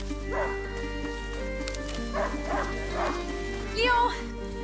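Hunting dog Leo barks and whimpers in short yips at a middle distance, a few separate bursts over a steady background hum, with a louder cry near the end.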